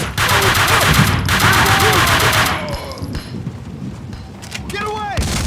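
Rapid automatic gunfire rattles in fast, dense bursts in the Max Payne 2 video game, loud and close with brief pauses and a final short volley. Voices speak between the shots.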